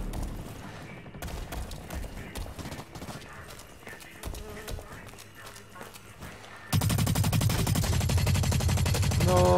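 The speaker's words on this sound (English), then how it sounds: "Oh, I got shot from somewhere." Gunfire in the video game Blacklight Retribution, with rapid clattering shots under busy game sounds, then a sudden louder, denser burst of noise for the last few seconds.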